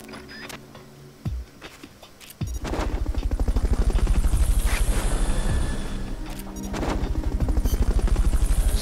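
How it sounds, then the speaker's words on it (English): Fulton recovery helicopter in the video game Metal Gear Solid Peace Walker: a sharp game effect, then a loud, steady rapid rotor chop that runs continuously and swells slightly, with no talking. "Fulton recovery helicopter is complete"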